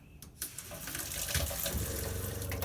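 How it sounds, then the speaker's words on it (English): Water runs from the kitchen sink faucet of a travel trailer, a steady close splashing gush that starts after a brief quiet moment and continues loudly to the end. "when I try the water in the kitchen sink"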